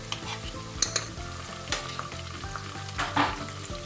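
Chopped onions with ginger garlic paste sizzle and fry in a pan for a potato curry, a steady crackle broken by a few clinks and scrapes of stirring, with no voices.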